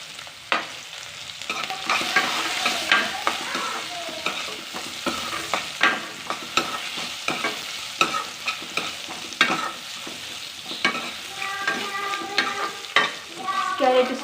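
Carrots stirred and frying in hot oil, with a steady sizzle broken by frequent scraping and clinking strokes of a spoon against the pan throughout.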